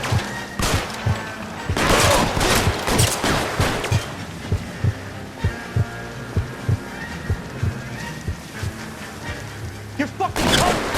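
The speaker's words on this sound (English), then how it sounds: "I'll lay down some suppression fire." Suppressing gunfire in a video game shootout with police, a rapid loud burst of shots followed by steady rhythmic heavy thumping reports, with a heavier blast at the end.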